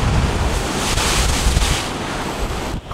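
Ocean surf breaks close by at a shore fishing spot, a loud continuous rush of waves mixed with wind buffeting the microphone, with no talk.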